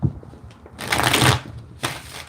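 Tarot cards are shuffled in two brisk riffling bursts, close and crisp, with a brief pause between them.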